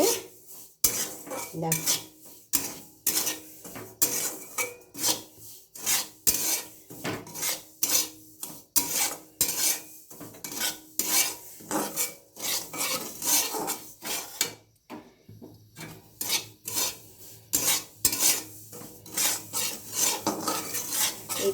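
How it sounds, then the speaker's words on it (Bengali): Semolina (suji) dry-roasting in a pan for a chhana payesh, with a utensil scraping and stirring it in quick, repeated strokes and metallic clinks throughout; a voice speaks briefly. "এই দেখো আমি সুজিটা একটু ভালো করে শুকনো খোলায় ভেজে নিচ্ছি"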